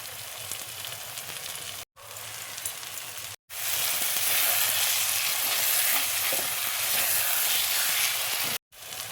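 An egg sizzles loudly in hot oil with masala, a close, steady frying hiss cut by a few brief breaks.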